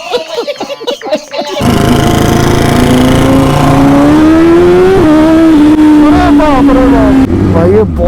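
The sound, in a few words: BMW S1000RR motorcycle engine revving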